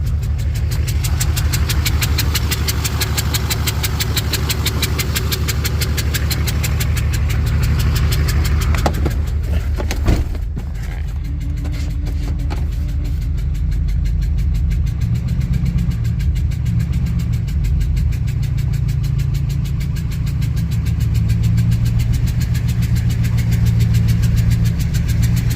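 An LLY Duramax diesel engine in a truck idles roughly on seven cylinders, a loud, steady low rumble with an uneven knocking beat that runs alone throughout, with a brief clunk partway through.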